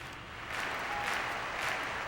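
A crowd applauds and cheers in the PlayStation 2 rhythm game Mad Maestro, a soft wash of clapping that swells slightly after the first half second and holds steady, with no talk over it.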